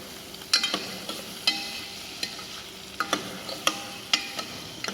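Long grain rice pilaf turning translucent is stirred with butter and vegetables in a hot pan, a soft sizzle under sharp, irregular scrapes and clicks of the spoon, close and fairly quiet, no talk.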